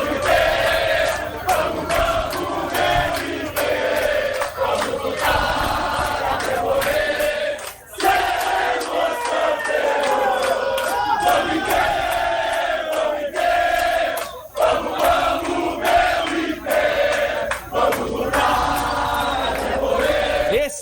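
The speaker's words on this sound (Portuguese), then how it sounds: "Eu encerro aqui a concentração com o som da torcida do..." Dense crowd of football fans chanting and singing together outside a stadium in Rio de Janeiro, a loud, continuous roar of voices with rhythmic swells and only brief dips.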